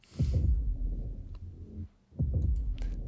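Heartbeat-style hit made from a TX4 trailer sample with its top end cut by Pro Q EQ: deep, muffled low thumps in a lub-dub pattern, repeating twice with a short gap, alone and fairly loud.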